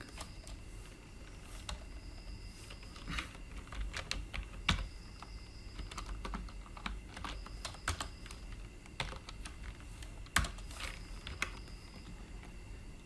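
C++ code is typed on a computer keyboard in steady bursts of soft key clicks, with a few sharper, louder key strikes and short pauses, close and alone.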